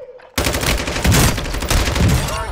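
Rapid automatic gunfire in the video game Warzone, loud close bursts erupting suddenly after a brief quiet moment and continuing in dense rattling volleys.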